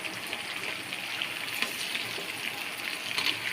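Small anchovies frying in a pan of hot oil, a continuous bubbling sizzle with light crackles, moderately loud and close, with no speech over it.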